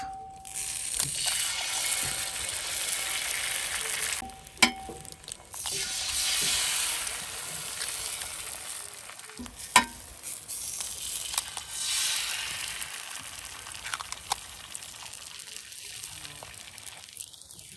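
Eggs frying on a camp griddle beside bacon while glamping: a continuous bright sizzle and crackle that swells and eases over several seconds, broken by a few sharp clicks and scrapes, fairly close and steady.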